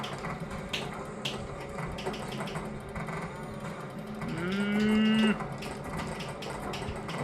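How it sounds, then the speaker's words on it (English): Cows moo on the Twister pinball table during a five-ball multiball, one drawn-out moo rising near the end over a busy bed of clattering balls, ratcheting mechanisms and bell-like chimes. "We got cows. We have cows."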